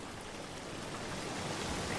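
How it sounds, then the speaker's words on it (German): Steady, soft rushing and splashing of water near a bathing spot, a continuous faint babble with no voices. "Das Plätschern."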